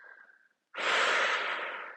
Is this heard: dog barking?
no